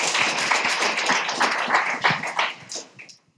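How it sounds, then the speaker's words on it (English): An audience at a PyTexas lightning talks session claps for a speaker, a dense burst of close, lively applause that tapers off after about three seconds. "Let's give a round of applause for Caroline."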